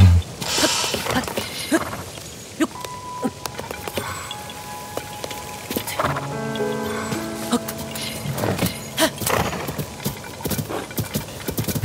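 A horse's hooves clip-clop steadily through Zelda: Tears of the Kingdom, with a whinny breaking through amid game music and rain-like ambience at moderate loudness.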